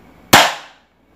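A single sharp crack from a C.1911A+ spring pistol firing at a target five meters away, close and loud, with a short decaying tail and no other sounds.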